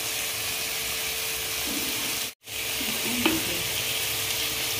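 Indian-style masala pasta sauce with tomato, green chili and red chili fries in a pan and is stirred, giving a steady close sizzle with the scrape of stirring and a brief cut to silence midway.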